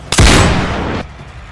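Gunfire bursts out loud in an animated series fight scene: a sharp blast followed by about a second of dense, sustained rattling fire that cuts off abruptly, with no talking over it.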